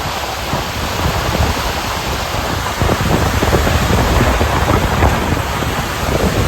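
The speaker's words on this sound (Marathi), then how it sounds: "खूप खतरनाक पाऊस आहे मित्रांनो" Heavy rain driven by strong wind during a May storm over waterlogged farm fields, a loud, dense, unbroken roar with gusts buffeting the microphone throughout, no voices.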